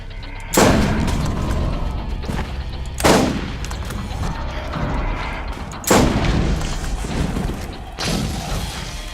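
Booming sniper rifle shots in Borderlands ring out four times at spaced, uneven intervals, each a sharp loud crack followed by a long rumbling tail, with no talking over them.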